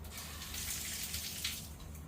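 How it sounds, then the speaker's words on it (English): Hose water gushing into an inflatable four-person hot tub during setup, a continuous hissing splash with a low rumble underneath, steady and fairly near, no voices. "At this point, you're basically going to fill your hot tub."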